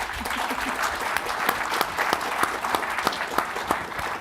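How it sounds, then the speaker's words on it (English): An audience at a live main-stage event applauds steadily. Dense, even clapping with sharp individual claps standing out throughout, fairly close and sustained. "Please welcome Melie with a round of applause."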